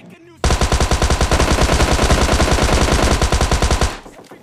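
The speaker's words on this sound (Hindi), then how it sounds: "अब क्योंकि मेरे पास यहाँ पर थॉम्सन होती है वो भी 50 बुलेट्स के साथ, मतलब प्री फायर देते गया मैं" A Thompson submachine gun in a mobile battle-royale shooter fires one long, loud, rapid automatic burst of about three and a half seconds, each shot distinct and evenly spaced, then stops abruptly.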